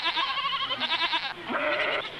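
Goats bleat loudly and close in a quick run of wavering, quavering calls, two or three overlapping bleats in a couple of seconds, heard on their own without talk.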